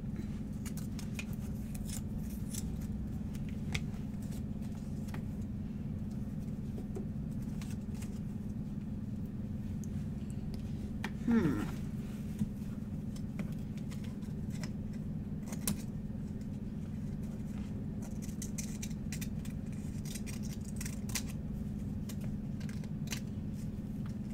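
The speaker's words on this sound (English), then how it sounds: "Trimming the flower just a little bit." Scissors trimming a paper flower for a junk journal: faint, sparse snips and light clicks over a steady low hum in a quiet room, with one slightly louder cut midway and no talking.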